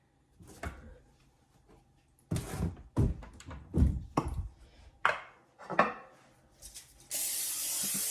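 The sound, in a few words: cooking spray on a pan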